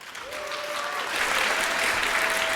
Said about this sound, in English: Big applause for Buddy